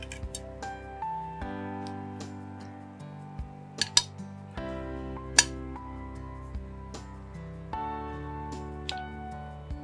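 Metal cutlery and plates clinking in a home kitchen, several sharp bright chinks scattered over steady background music.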